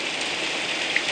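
Steady rain falls with dense, continuous patter of raindrops, a close, even hiss with no voices.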